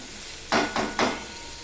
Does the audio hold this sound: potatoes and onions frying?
yes